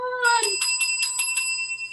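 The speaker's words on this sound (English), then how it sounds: "Two sets of bells for Ron today" A bicycle-style bell rung repeatedly, about seven bright clear dings in quick, even succession, each ringing on with sustained metallic overtones, close and loud, following a brief high voice at the start.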